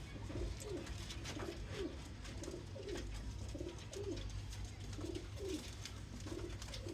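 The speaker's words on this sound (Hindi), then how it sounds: "ये बट साहब के बड़े पसंदीदा कबूतर थे" Pigeons coo softly in a low, repeating rhythm, several throaty calls in a row, fairly faint against a steady background hum.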